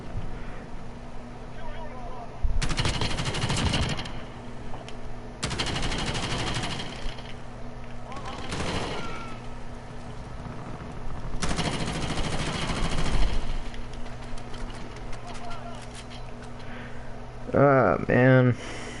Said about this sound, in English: Me just shooting at nothing.